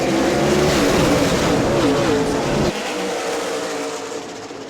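Stock race cars roar around the New Smyrna racetrack during a Red Eye event, engines loud and close with shifting pitch as they pass, the pack noise dropping off abruptly partway through under a commentator's voice.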